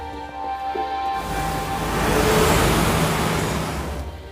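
An electric long-haul bus and road traffic on a New Delhi street make a loud, continuous roar that swells as a vehicle passes close by and then eases off, with no talk.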